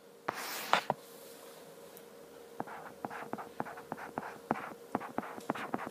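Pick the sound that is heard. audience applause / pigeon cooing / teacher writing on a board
teacher writing on a board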